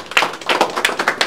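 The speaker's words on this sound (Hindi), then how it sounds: "एक बार जोरदार तालियां" Applause from an audience at the opening ceremony of a fashion showroom in Bhagalpur, heard as a brief burst of uneven, overlapping claps with sharp taps rising and falling over about a second.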